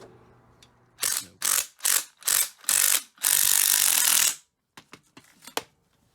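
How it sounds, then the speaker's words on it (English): Ratcheting spring compressor working on a worn-out shock absorber from a 1996 Nissan Altima, giving a series of loud, close rasping ratchet strokes, one long drawn-out pull, then a few lighter clicks. "Well, there's the spring compressed."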